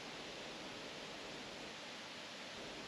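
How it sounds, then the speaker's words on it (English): Small waterfalls at Hollins Mill Park along the Blackwater Creek Bikeway on the Virginia Waterfall Loop, a steady broadband rush of falling water, even and continuous with no voices. "These waterfalls are actually on the scenic Virginia Waterfall Loop."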